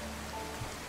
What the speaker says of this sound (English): I'm really enjoying the rain.